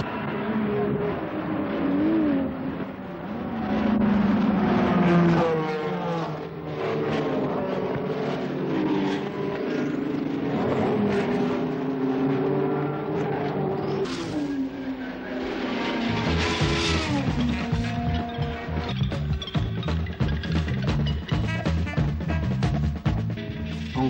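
A Porsche 935 race car driven by Rolf Stommelen charges around the outside line on the opening lap, its engine loud and sustained with shifting pitch, while commentary runs over it.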